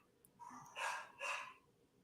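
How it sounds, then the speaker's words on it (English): A dog gives two or three quick barks or yips, fairly faint and slightly distant, with no talking over them. "Apologize for my dogs right now."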